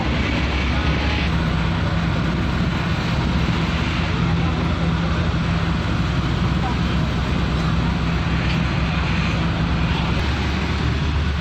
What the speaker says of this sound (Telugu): బోట్ అయితే మొదలైపోయింది.